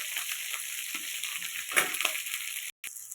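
Shallots and dried red chillies frying in a pan, giving a steady, close crackling sizzle with a few louder pops. It cuts out abruptly near the end.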